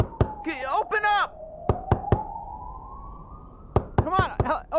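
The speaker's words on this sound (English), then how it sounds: "I'm just gonna keep knocking and hang out until you open." Knocking on a door in the video game Trover Saves the Universe, with sharp, loud single raps spaced irregularly, alternating with a voice talking and a steady rising tone in the background.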